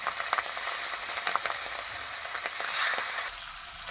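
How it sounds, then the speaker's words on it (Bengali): Raw hilsa fish pieces sizzle in hot mustard-tempered oil, a dense steady crackle with small pops, close and loud, with no talk. "এবার ফোড়নের মধ্যে দিয়ে দিচ্ছি আমি কাঁচা ইলিশ মাছ"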